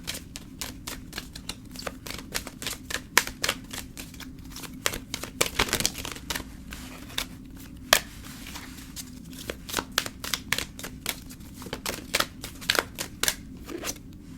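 Tarot cards being shuffled and handled, a steady run of crisp papery flicks and snaps close up, with no one speaking.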